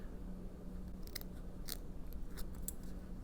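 A few faint, quick scissor snips trim excess monofilament stabilizer from a sewn waistband, crisp little cuts spaced over a quiet room hum.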